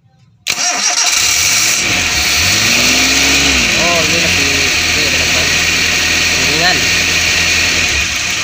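An LPG-fuelled Suzuki Espass car engine cranks and catches, then settles into a loud, steady running drone with some revving swells, close by, while people talk over it.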